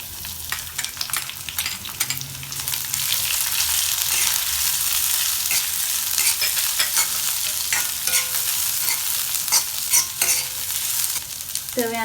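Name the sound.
thinly sliced small onions frying with garlic in oil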